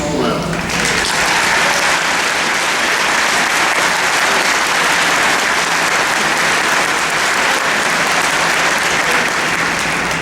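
A large audience at a Georgia Southern University fall commencement ceremony applauds the faculty, dense and loud clapping sustained without a break.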